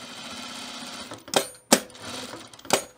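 A sewing machine makes single slow stitches while top stitching a quilted puffer vest, giving a few separate sharp mechanical clunks over a soft hum.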